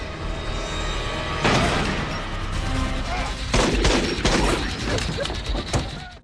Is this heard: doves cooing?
no